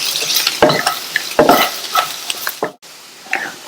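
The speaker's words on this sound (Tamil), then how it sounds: "இதுல பொடியா கட் பண்ண கொத்தமல்லி இலைகள் சேர்க்கிறேன். மிக்ஸ் பண்ணி விட்டுறலாம்." A spoon scrapes and stirs potato jeera fry with chopped coriander leaves in a pan, giving a few rhythmic strokes over a soft sizzle, close and fairly loud.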